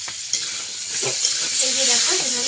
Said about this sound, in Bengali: কচুটাকে কিন্তু ভালো করে ভাজাভাজি করে নিতে হবে